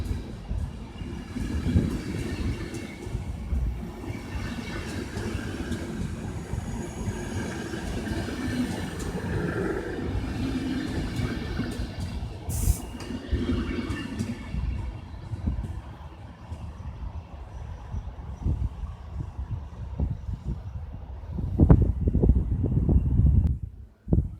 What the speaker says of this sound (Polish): wjeżdża pociąg Telka Wyczółkowski relacji Lublin Główny Świnoujście.